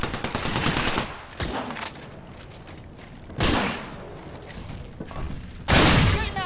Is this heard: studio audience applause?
no